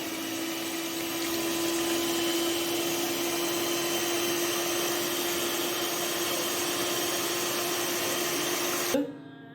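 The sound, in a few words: beating whipping cream for vanilla custard ice cream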